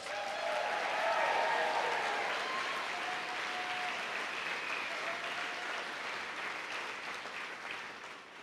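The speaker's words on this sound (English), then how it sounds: "Let's give them a round of applause." Audience applause at a college commencement ceremony for a graduating chiropractic class, a dense, sustained wash of many hands clapping with faint cheers, fading slightly toward the end.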